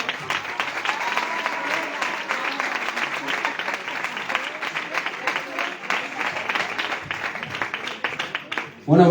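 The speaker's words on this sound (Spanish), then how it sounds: "Damos un aplauso para el Señor." A church congregation applauds in a long, even burst of many hands clapping at moderate loudness, with a faint murmur of voices beneath, before it ends abruptly.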